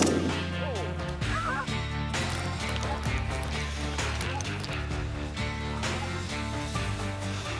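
A dense flock of snow geese honking during a spring goose hunt in foggy Quebec, a continuous loud chorus of overlapping calls near and far.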